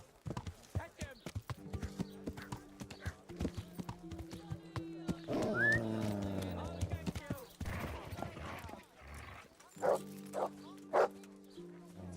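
Dog barking in a video game, sharp repeated barks over clip-clop hoofbeats and game sound effects, with people shouting and talking throughout.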